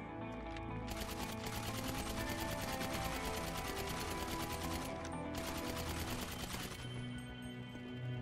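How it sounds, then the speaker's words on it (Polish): Rapid bursts of gunfire in GTA V, dense and loud, with repeated automatic volleys continuing over a steady background for several seconds. "To kontrolowane strzały były moje."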